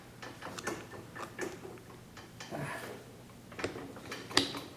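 Bolt being pulled from a Steyr 1888 Mannlicher rifle, a scattered series of quiet metallic clicks, slides and ratcheting taps up close, ending with a sharper click; no talking.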